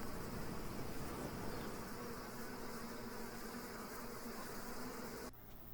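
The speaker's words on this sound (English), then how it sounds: "Guard bees on the landing board." Honeybees buzz steadily at a hive entrance where guard bees stand on the landing board, a dense, continuous drone close up that drops slightly in level just before the end.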